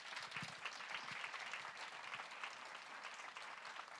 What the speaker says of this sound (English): Let's give them a huge applause.